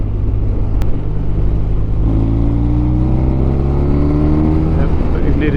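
A BMW R1200GS motorcycle engine pulls steadily at low revs in a high gear, a loud continuous drone with rising tones, heard up close with wind rush.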